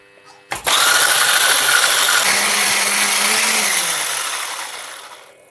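Electric hand mixer starting abruptly and whirring steadily as it whips egg whites with a pinch of salt and citric acid in a deep bowl, a loud continuous motor buzz that eases slightly toward the end.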